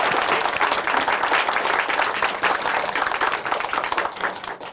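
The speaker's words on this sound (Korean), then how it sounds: "다시 한번 김명동 자매님께 큰 박수 부탁드릴게요." Studio audience at a church testimony programme giving a big round of applause, dense close clapping that holds steady then tapers near the end.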